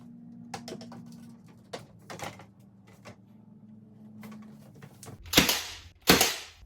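A nail gun fires 1-inch nails through door casing into the jamb, giving two sharp, loud pneumatic bangs near the end after light handling clicks and taps.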